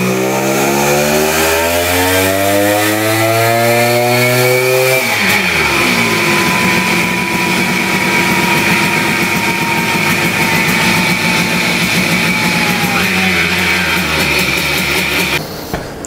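Simson 130cc moped two-stroke engine with side exhaust ports on a dyno, revving up loudly in a rising sweep, then holding a harsh, buzzing high-rev drone before cutting off at the end.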